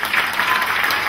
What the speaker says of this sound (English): Everyone give a clap for that.